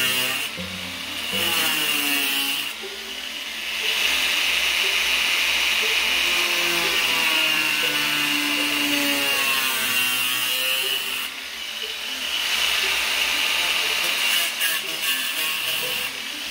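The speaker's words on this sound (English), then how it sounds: "Starting cuts are made using an angle grinder with a cutoff wheel." An angle grinder with a cutoff wheel cuts into the metal exterior wall of an RV for a bathroom slide-out, giving a loud, steady high-pitched whine with brief dips between cuts.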